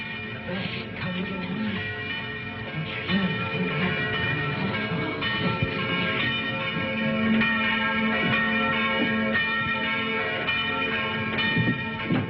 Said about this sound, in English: Did he ring the bell to say the gauntlet had come home?